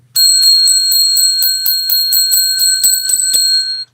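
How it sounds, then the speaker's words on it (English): A bell rung repeatedly in a steady rhythm, about ten bright ringing strikes with sustained overtones, close and loud, with no talking. "Let's ring the bell 10 times."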